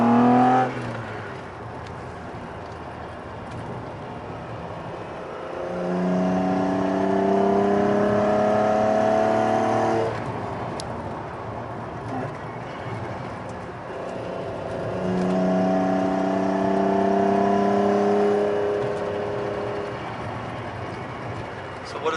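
A BMW E28 525e built as an Alpina tribute idles and revs, rising and falling in two long swells, with people talking over it.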